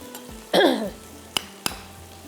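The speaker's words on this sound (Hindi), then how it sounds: "अदरक लहसुन आपने डाल देना है। और थोड़ी देर इसको आपने फ्राई करना है।" Ginger and garlic hit hot oil in a pan with a sudden bright sizzle that fades over half a second, followed by a few sharp clinks of a utensil against the pan.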